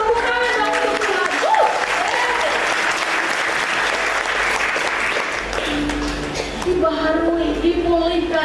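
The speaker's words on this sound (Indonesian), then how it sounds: "tepuk tangan dong untuk Tuhan." A church congregation at a Sunday service claps together in sustained, fairly loud applause, with organ or keyboard chords sounding underneath and emerging more clearly as the clapping eases.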